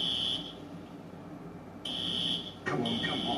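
A building fire alarm sounds in loud, steady electronic tones that cut off and restart, while people talk in the background.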